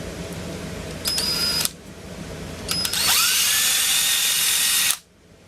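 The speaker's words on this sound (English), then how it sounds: "now we want to drill us a second hole" A power drill boring a draft hole in the bottom of a tobacco pipe's chamber whirs in two runs, a short burst and then a longer spin that winds up in pitch before cutting off abruptly.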